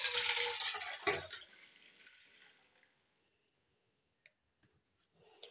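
Full-fat loose milk, 1.5 litres, pours into a pan for kheer as a steady splashing rush that fades over a couple of seconds, followed by quiet with a few faint clicks.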